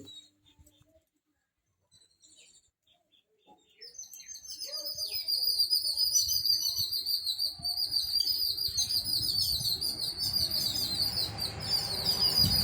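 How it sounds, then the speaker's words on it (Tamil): After a quiet start, many small birds bathing in water burst into dense, continuous chirping and twittering nearby, a busy chorus that keeps going to the end. "வீட்டுக்கு அந்த பக்கம் நிறைய பூனிக்குருவிங்கெல்லாம் மொத்தமாக நின்று தண்ணியில் குளிச்சிட்ருக்குதுங்க"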